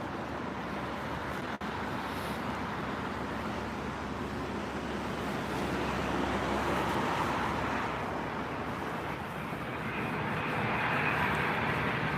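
A British Airways Boeing 787 near London Heathrow, a faint-to-moderate continuous engine drone that grows slightly louder toward the end, with a brief click early on.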